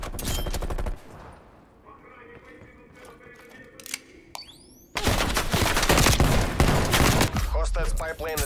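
Gunfire from the hand cannon in the video game Call of Duty: Black Ops Cold War, loud rapid bursts of shots at the start, a quieter stretch with scattered game effects, then heavy sustained firing and blasts.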